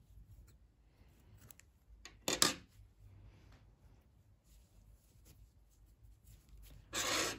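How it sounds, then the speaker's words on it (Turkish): Scissors snip crochet yarn while making a baby's flowered dress, two short, quiet crisp cuts separated by soft handling rustles in an otherwise hushed room. "İpliği burada kesiyorum."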